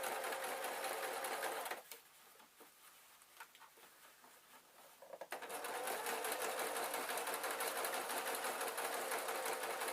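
A sewing machine stitches a peg bag in a steady, close whirr, breaking off briefly near the middle as the needle is left down and the foot lifted, then running straight on again.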